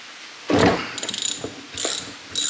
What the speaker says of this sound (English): I can loosen this 15 millimeter bolt on the top of the strut hat